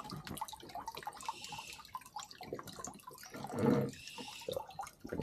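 Water pouring out of a homemade bucket pond filter, a steady splashing trickle with a brief louder gush midway, heard close up with no talk.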